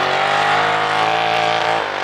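Turbocharged vehicle engine pulling at about quarter throttle while in limp mode with error codes, a steady loud drone with a slowly rising tone that runs unbroken, close up, with no talk over it.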